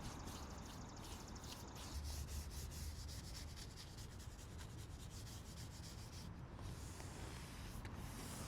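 A brush and rag work teak oil finish into wood on an elevated garden planter, making soft, continuous rubbing and swishing strokes that are close but very quiet, with no voices.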